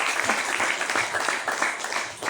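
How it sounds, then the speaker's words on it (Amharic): A church congregation claps in a steady, rhythmic beat throughout, a full room of hands striking together at close range, loud and sustained with no speech over it. "አጨብጭቡ ለጌታ ክብር"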